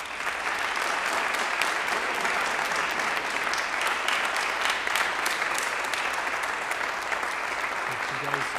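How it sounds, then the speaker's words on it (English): Audience applause for newly inducted National Honor Society members at a 2023 school induction and service awards ceremony, a dense steady wash of clapping from a large crowd lasting throughout. "Give them a big round of applause,"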